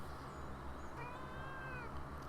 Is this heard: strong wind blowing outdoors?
no